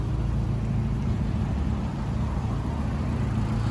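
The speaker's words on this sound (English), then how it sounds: "the engine has been running since we started, and you've probably heard it all the way through the video" A car engine idles steadily nearby, a low, even hum with faint mechanical texture and no other sounds.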